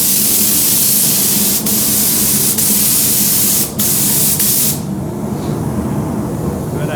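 Aerosol spray paint hissing onto a Traxxas Maxx RC car shell in a steady loud close burst, with brief pauses between passes before it stops near the end.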